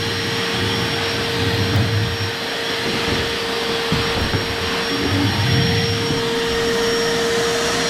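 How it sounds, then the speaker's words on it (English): A vacuum cleaner runs continuously with a steady whine and roar, loud and close, with small shifts as it moves. "So let me vacuum this up."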